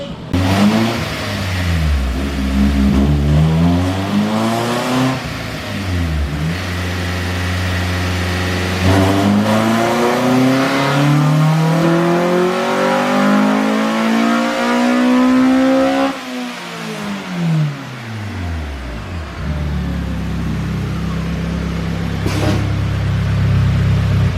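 A winter-beater Honda Civic on E85 fuel revs hard on a dyno, its engine climbing and dropping through several loud sweeping pulls before settling toward a rougher idle near the end.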